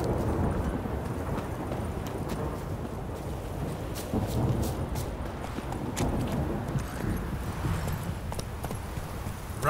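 Roach, a horse in The Witcher 3, gallops with steady rhythmic hoofbeats over a dense bed of rumbling ambience, continuous and moderately loud throughout.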